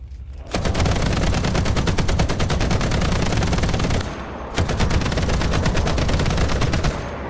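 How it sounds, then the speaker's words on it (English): Rapid gunfire from the T77's six guns in War Thunder rattles loudly in two long sustained bursts, the first running about three and a half seconds, then a brief pause before the second. "Surely the T77 sounds like 6 guns"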